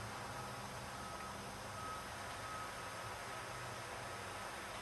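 A truck reversing, a faint steady tonal beep repeating at a regular rate over a constant low engine and road noise wash.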